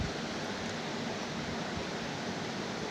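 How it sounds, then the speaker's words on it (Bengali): Paneer pieces fry in hot white oil seasoned with salt and turmeric, giving a steady, even sizzling hiss throughout with no talking. "হালকা করে ভেজে নিলাম পনিরগুলো হালকা লালচে করে"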